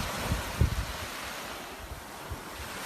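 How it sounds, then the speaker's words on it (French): Wind blowing over the open ocean, a steady broad rush mixed with soft surf and light buffeting on the microphone, with no voices. "Écoutez le bruit du vent qui souffle dans les ailes, la voile du parapente."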